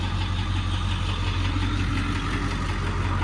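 A diesel truck's engine rumbles steadily while driving on the road, a continuous low, throbbing drone with road noise, no talking.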